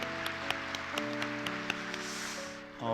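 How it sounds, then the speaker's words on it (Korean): A congregation applauds a visiting professor during a church revival service, clapping moderately spread out with a few sharp individual claps standing out over a steady tonal backdrop. "귀한 말씀 전해주신 교수님께 감사의 박수 드렸으면 좋겠습니다"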